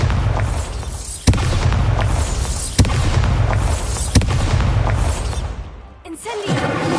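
Bombarda blasting spell in Hogwarts Legacy, a loud rumbling explosion texture punctuated by three sharp, evenly spaced impacts, then a brief pause before a voice cuts in.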